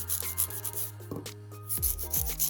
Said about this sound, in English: when you do file, you're filing the same amount of times onto the other one